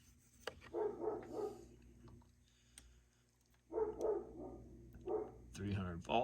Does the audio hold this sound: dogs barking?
yes